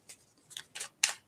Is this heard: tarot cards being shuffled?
yes